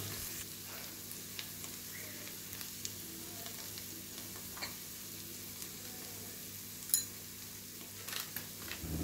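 Tomato and chili masala paste frying in oil makes a faint, steady sizzle with an occasional soft clink of a utensil, heard alone and fairly quiet.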